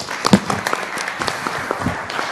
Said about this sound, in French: Applaudissons-la.